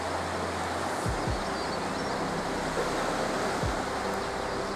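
Sea waves wash onto a beach on the Asturian coast near Colunga, a loud, continuous surf roar with low rumbles rolling through, no voices.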